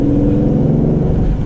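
A 2020 Aston Martin Vantage with a turbocharged V8 drones steadily from inside the cabin, a brief, loud, low engine hum with no talking.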